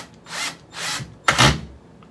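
A handheld power drill bores into wood, three bursts of whirring with the last one heavier and lower as it bites, close and loud with no talking.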